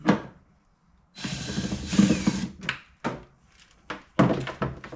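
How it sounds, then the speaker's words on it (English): A bolt being unscrewed during a car stereo installation: short mechanical ratcheting and metallic scraping bursts, close by and intermittent, with quiet gaps between them. "put it in the bolt, unscrew it"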